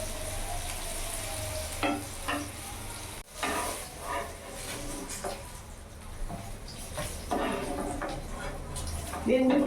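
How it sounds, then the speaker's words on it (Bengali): Eggplant pieces sizzle and fry in a pan while being stirred, with a steady hiss and intermittent scraping and clattering from stirring, heard under a person speaking. "ভালো করে নাড়াচাড়া করে একটু লাল লাল করে ভেজে নেব। বেগুনগুলো লাল লাল করেই ভেজে নেব।"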